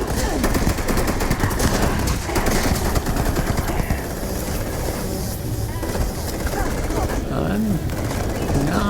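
The Zapper Tesla weapon fires in Starfield with rapid crackling electric bursts in dense continuous volleys. Game sounds and a voice mix in underneath.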